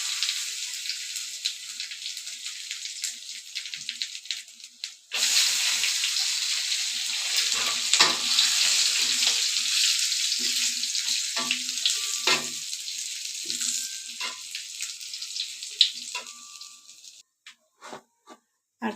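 Panch phoron spices and cashews fry in hot oil, starting with a brief quieter stretch before a loud, close sizzle bursts in and carries on with crackles and spoon scrapes, thinning out and fading near the end.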